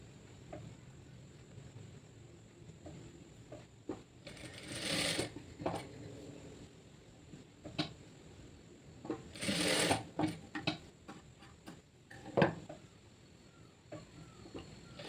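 A sewing machine runs in short, quiet bursts while stitching the shoulder seam of a chemise, with faint clicks and pauses between stretches of stitching.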